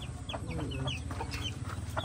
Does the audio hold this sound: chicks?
yes